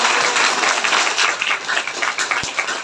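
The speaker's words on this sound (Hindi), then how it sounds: "जोर से ताली बजा के हालेलुया।" A congregation at a prayer meeting claps loudly and steadily in dense, continuous applause, with a few sharper individual claps standing out near the end.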